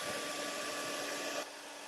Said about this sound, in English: Use our blow dryer.